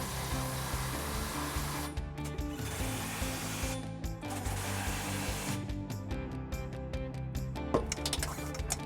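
An impact wrench with a 21mm socket tightens trailer hitch bolts on a 2011 Dodge Durango, loud buzzing hammering bursts broken by short pauses and clicks, close and continuous over several seconds.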